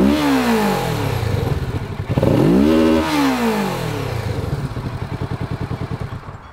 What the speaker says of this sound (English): If you like a parallel twin sound, that is this